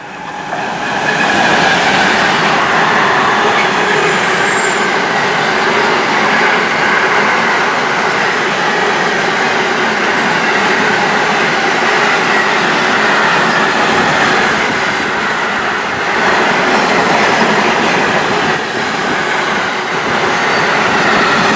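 A heavy freight train rumbles steadily past at close range through Trent Valley railway station, with continuous clattering wheels and a broad roar that holds for the whole stretch.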